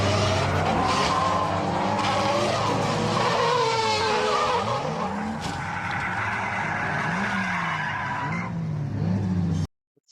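A Nissan S14 drift car with a Toyota 1JZ single-turbo engine skids on a wet track at Ebisu, its loud, sustained tire squeal layered over a straining, shifting engine note that cuts off abruptly at the end.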